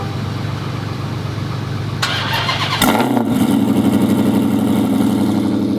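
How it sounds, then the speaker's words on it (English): A dirty pickup truck fitted with an aftermarket upgrade cranks and fires up, its engine catching with a sudden burst and settling into a loud, throaty, rumbling idle with revving, close by and with no talk over it. "listen to my car when I start it up"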